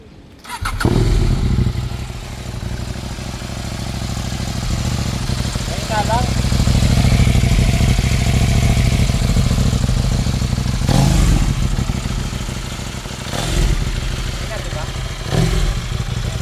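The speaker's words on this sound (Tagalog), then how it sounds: "Ayan, tinanggal yung silencer ng B-Max." A Suzuki B-Max motorcycle with its silencer removed runs loud and raw outside a café gathering, its blatting exhaust steady with a few sharp rev bursts, while people talk over it.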